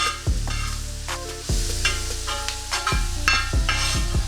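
Onions fry in a pan with a close, steady sizzle while a spoon knocks and scrapes about once every second and a half. A low repeating musical tone plays underneath and no voices are heard.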